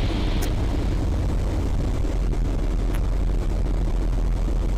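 A Eurofox light aircraft heard from inside the cockpit in flight, its engine a steady, loud broadband drone with heavy low rumble and wind noise, holding level as power is eased back.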